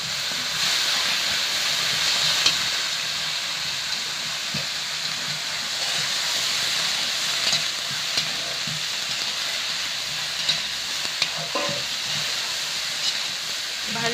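Shrimp with sour mesta-leaf fruit and turmeric frying in hot oil, a loud steady sizzle and hiss running throughout with occasional faint scrapes of stirring.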